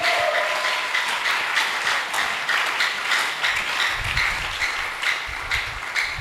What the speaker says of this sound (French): beta maboko mpo na nkolo yesu kristo